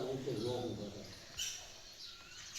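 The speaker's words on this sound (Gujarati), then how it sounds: "પક્ષીઓ કલરવ કરે છે" Birds chirp in a village morning in Lilia, Gujarat, with a few short calls over soft background voices and household sounds, fairly faint and intermittent.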